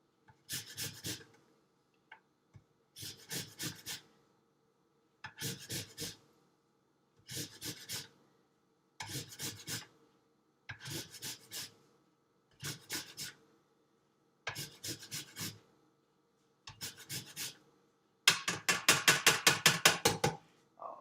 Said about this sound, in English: Take its zest, just zest it right up in here.